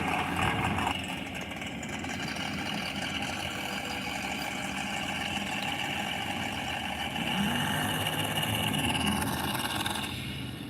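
A turbocharged race car engine idles at the track, a continuous loud, rough rumble held steady throughout, close by and without talk.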